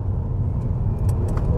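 A Ford Mondeo Titanium X with a 2.5 turbo engine accelerates hard in a lower gear, a loud, steady low engine rumble heard from inside the car with faint ticks above it.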